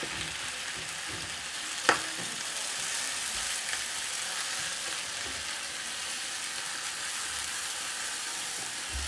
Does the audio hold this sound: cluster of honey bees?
no